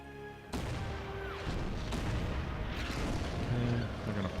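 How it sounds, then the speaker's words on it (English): StuG assault guns firing artillery support in an Order of Battle: World War II battle, with a sudden loud boom followed by sustained rumbling bombardment and scattered distant blasts. "Are those Stugs firing in artillery support?"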